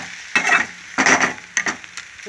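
A tempering for dal frying in a pan, crackling and sputtering in several distinct bursts, loud and close with quiet gaps between.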